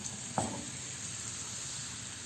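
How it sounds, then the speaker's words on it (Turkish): Crepe batter cooking in a pan gives a soft, steady sizzling hiss. One brief clink comes near the start, and no one speaks. "Yayıyorum her tarafına bu şekilde. Ve pişiriyorum."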